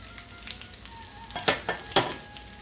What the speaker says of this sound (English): I just want this to saute